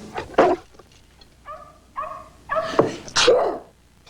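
A small chihuahua gives a few sharp, close sneezes, with short whiny yelps between them, in a quiet room.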